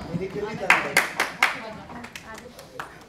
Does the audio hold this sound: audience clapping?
yes